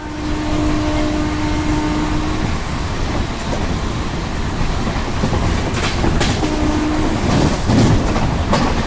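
Brindavan Express train running at night past a Chennai suburban line station, a loud steady rumble and rattle of wagons with clickety-clack rail joints, a brief sustained horn-like tone early and later, no talk.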